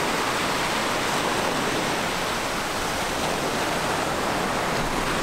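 A small waterfall at a secret beach near Brookings, Oregon pours in a constant, dense broadband rush, loud and unbroken, blending with surf-like roar and no voices.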